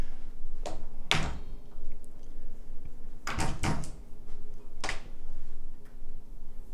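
Hotel room closet door at the Cosmopolitan Las Vegas opening and closing, several distinct thumps and latch clunks spaced a second or two apart, close and fairly loud over a quiet room hum.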